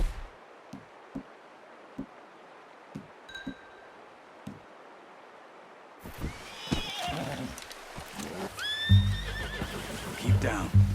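Horse in the Red Dead Redemption 2 video game, first soft scattered hoof thuds in quiet, then a clear whinny and snorting neighs grow louder toward the end over a low rumble.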